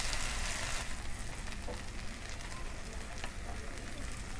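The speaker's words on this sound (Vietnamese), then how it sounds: "mình đổ khoai tây vô là mình bắt lửa nhỏ nha cả nhà, bắt lửa riu riu thôi cho nó chín khoai tây á." Potatoes frying in a pan over low heat give a steady, close sizzle that runs the whole way through with no talk, a little louder at the start.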